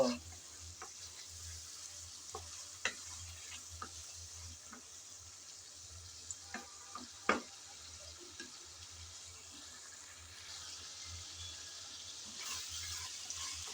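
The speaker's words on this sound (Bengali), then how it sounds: "আলুটা দিয়ে নেড়ে চেড়ে একটু কষিয়ে নেব" Potato pieces being stirred and sautéed in a pan for a mixed vegetable dish with drumsticks, giving a steady low sizzle with scattered scrapes and clicks of the spatula throughout.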